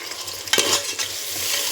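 Onions and tomato frying in hot oil in a pan for pea biryani, a brief close sizzle with a sharp stirring scrape near the middle and no voices.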